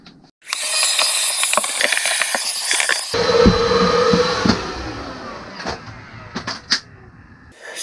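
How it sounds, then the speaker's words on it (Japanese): A household vacuum cleaner working over a camper van's roof vent fan, starting with a loud whining roar, then shifting to a rougher rattling suction, with knocks and clicks as the nozzle moves. "うちには必殺の家庭用の掃除機がありますので、"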